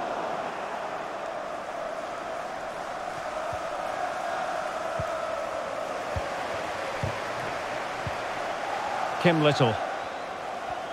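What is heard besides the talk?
stadium crowd cheering in FIFA 23 video game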